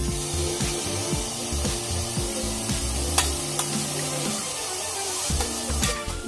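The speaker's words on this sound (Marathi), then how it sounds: "त्यानंतर आपण ह्याच्यामध्ये ऍड करणार आहोत ही भाजी, राजगिऱ्याची भाजी." Amaranth greens are stirred into a pan of cumin and coconut, a close, continuous rustling scrape of spatula and leaves over a light sizzle, with no talk.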